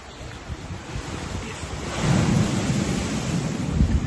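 Sea waves wash onto the shore in a continuous low rumble and swell, with wind buffeting the microphone. No voices are heard.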